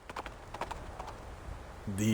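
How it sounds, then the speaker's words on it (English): Hooves of a startled horse clip-clop as it bolts away in the fantasy video game Reverse 1999, a quick run of light knocking beats that fades out before a louder synthetic tone enters at the end. "The communicator's noise startles the nibbling horse. It lifts its head and bolts into the distance."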